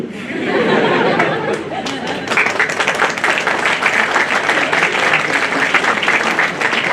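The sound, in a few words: seminar audience applause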